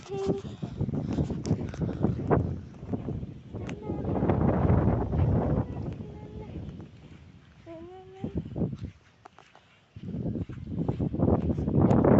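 Steady wind rumble buffets the microphone throughout, in the Himalayas, with people talking over it and brief quieter lulls.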